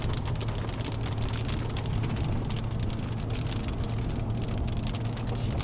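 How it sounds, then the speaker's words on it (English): Small hailstones patter densely and steadily on a car during a storm chase, a constant close rattling hiss with no voices. "Small hailstones."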